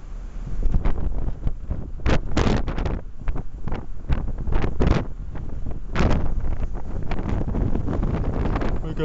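Strong wind buffets the outside of a moving truck in misty weather, a loud continuous rushing roar with repeated heavy gusts slamming the microphone.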